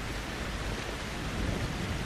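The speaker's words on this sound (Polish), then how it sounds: "deszczyk pada" Heavy, steady rain fills the scene in the video game Outlast 2 as a loud, dense broadband wash, with a low rumble of thunder running underneath and no talking.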